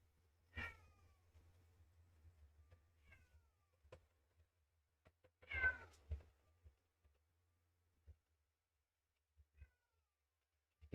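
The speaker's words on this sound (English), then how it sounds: "The cat's howling in the other room now." A cat howls in another room, two drawn-out muffled yowls with a few softer calls and faint knocks in between, distant against near silence.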